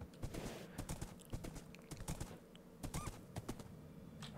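Horse hooves clip-clop in the video game Minecraft, a quick run of close, dry clopping steps with brief pauses, mixed with small game sounds and no clear talk.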